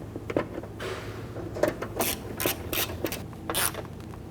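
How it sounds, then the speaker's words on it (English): A 1/4-inch ratchet snugs down plastic headlight-housing bolts on a 2006-2010 Hummer H3, giving a series of short, quiet clicking and scraping bursts at an uneven rhythm, close by with no speech. "Now I'm going to use my 1/4-inch ratchet."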